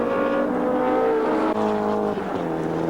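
1987 Holden Commodore touring cars race over a hilltop and down into a right-hander at Wanneroo, engines roaring loud and close with shifting pitch as several cars pass in quick succession.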